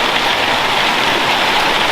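Steady rain falls in the wet season, a dense even hiss of drops with no pauses, close and fairly loud.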